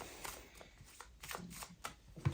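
A deck of tarot cards being shuffled up close: a run of soft, rhythmic riffling flicks and slaps, quiet and steady, with no talking over it.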